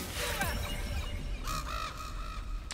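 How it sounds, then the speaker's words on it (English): A summoned crow familiar in Baldur's Gate 3 caws a few times in quick succession, close and clear, with no talk over it. "Let's get a crow."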